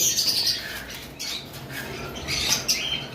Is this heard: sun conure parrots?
yes